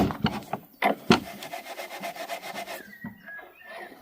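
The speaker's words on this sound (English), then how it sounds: "I'll try and polish up these casters. They're bronze, so they should clean up nice." Bronze furniture casters are rubbed and polished by hand with a rapid, raspy back-and-forth scrubbing, a few sharper knocks early on, then the strokes stop and leave a faint hiss.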